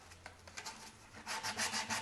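Wood being sanded by hand with 150 grit sandpaper, a quiet, close scratching of short back-and-forth strokes that grows louder and quicker toward the end.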